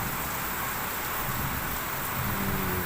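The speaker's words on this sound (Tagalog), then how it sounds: "Rain, rain, rain." Steady rain pouring down on a rainy afternoon, a dense, even hiss of falling drops that stays loud and constant throughout, with no voices.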